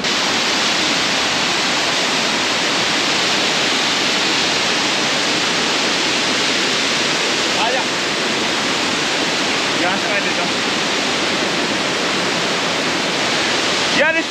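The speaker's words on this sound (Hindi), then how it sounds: "इस ट्रैक पे झरनों का मजा बिल्कुल अलग है यार, बिल्कुल बारिश वाली फील आ जाती है" A waterfall along the Annapurna Base Camp trek roars as a steady, loud, rushing wash of water, unbroken from start to finish and heard up close.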